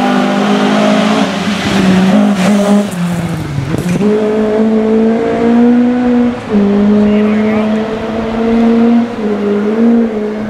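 Rally cars race past on a 2013 rally stage, engines droning loud and close with rising and falling revs, one car sweeping by near the middle, continuous throughout.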